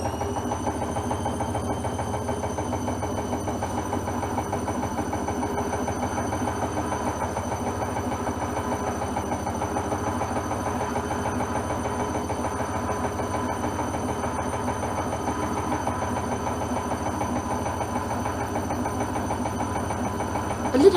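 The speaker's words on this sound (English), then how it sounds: "We're gonna go up to 400 RPM." A Hoover washing machine spins up to 400 RPM on a 60°C coloureds wash of white sheets, giving a steady, continuous whirring hum with a faint whine layered over it, close and unchanging throughout, with no voices.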